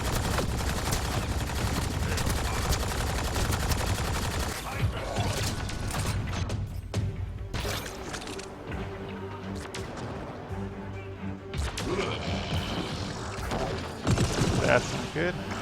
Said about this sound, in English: Judging by how much I'm getting shot.